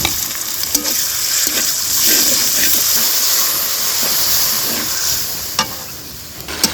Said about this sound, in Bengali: ধুয়ে রাখা মাছের মাথা ফুটনি এগুলো দিয়ে দিলাম খুব সুন্দর করে কষে ওঠার পরে শাক দিয়ে দিব